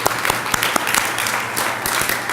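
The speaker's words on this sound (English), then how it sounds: "So thank you and congratulations, and another big round of applause." Steady applause from an audience at a hospitality school community meeting, dense and close clapping filling the whole moment without voices.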